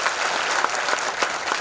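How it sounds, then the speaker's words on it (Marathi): An audience at a statue unveiling for Ahilyadevi claps loudly and densely, a steady wash of many hands heard close throughout. "त्यांच्यासाठी आपण जोरदार टाळ्या वाजवा"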